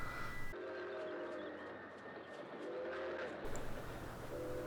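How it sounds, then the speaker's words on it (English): A long train rolls past on a railway track in a film scene, giving a steady rumbling drone with sustained horn-like tones at the start and end. "They have to wait for this incredibly long train to pass by"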